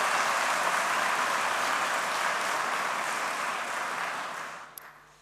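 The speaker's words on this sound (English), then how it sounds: "I think we should give them a very big round of applause" Graduates' families and guests at a University of Limerick autumn conferring ceremony give a long, full round of applause that stays dense and steady before tapering away at the close.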